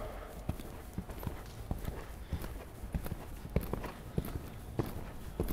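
Horse hooves walk in a steady clip-clop rhythm on an arena surface during high-level dressage training, the regular hoofbeats moderately close and fairly faint over a soft background.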